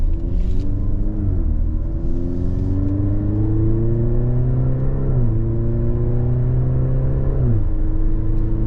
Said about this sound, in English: we're going to turn back onto the highway and we'll give it some, see how she does.